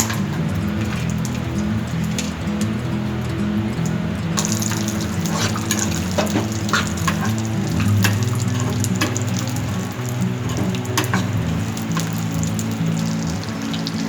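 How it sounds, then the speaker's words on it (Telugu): Cashews, almonds and walnuts fry in ghee over a medium flame, giving a continuous close sizzle and crackle with scattered sharper pops, with no one speaking. "కొంచెం మీడియం ఫ్లేమ్లో పెట్టుకొని కొంచెం రోస్ట్గా అయ్యేంత వరకు ఫ్రై చేయాలి."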